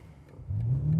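A BMW M5 accelerates in reverse, its engine note rising sharply in pitch halfway through the short burst, close and moderately loud with no talk.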